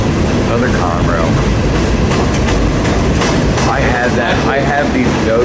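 A Conrail freight train rolls past close by. It makes a loud, continuous rumble and clatter of wheels on rail that never lets up.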